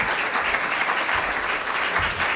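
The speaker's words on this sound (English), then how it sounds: "let's give him a round of applause." Steady, dense applause from an audience at a Latino business and entrepreneurship summit welcome session, even and continuous clapping with no voices on top.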